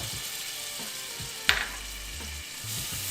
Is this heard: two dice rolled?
no